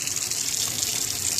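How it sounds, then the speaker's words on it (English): Hot tap water pours steadily into a kitchen sink and down the drain while grease is flushed away, a continuous close hissing rush with no talking. "We're gonna run with hot water to get that grease down that drain."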